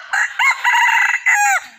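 A rooster crows once, loud and close, in several drawn-out, wavering phrases with brief breaks between them and nothing else audible.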